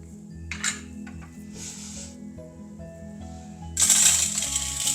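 Roasted urad dal is tipped from a pan into a bowl: scattered light clinks, then a dense, close rattling pour of grains near the end.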